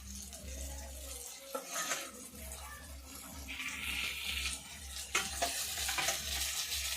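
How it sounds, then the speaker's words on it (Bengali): Bombay duck (lote fish) dropped into hot oily spice paste, giving a steady close sizzle with stirring scrapes and a couple of sharper bursts as pieces go in. "দেখুন লোটে মাছগুলো মশলার মধ্যে দিচ্ছি"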